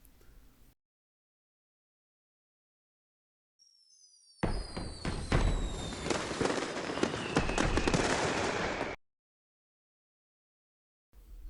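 Fireworks going off in Pokemon X: a burst of whistling rockets rising, then a dense, loud run of crackling and popping explosions lasting several seconds before cutting to silence.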